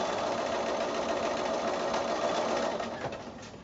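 A sewing machine runs steadily, stitching pinwheel quilt block pieces cut from 5-inch squares along a marked sewing line, a close, even whirring hum that slows slightly at the end.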